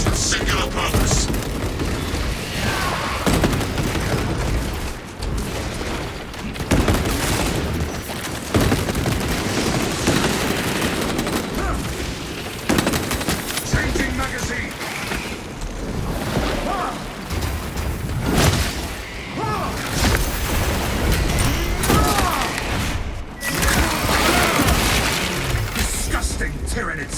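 Servo gun fire rattles through a video game battle against Tyranids, a continuous stream of loud shots, booms and cracks with shouted voice lines over the top.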